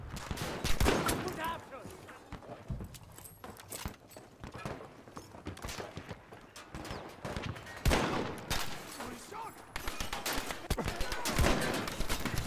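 Gunfire in the Battlefield 5 video game, with shotgun blasts mixed in: dense bursts of shots and rapid automatic fire crackle steadily throughout, with scattered footsteps, and no one talks.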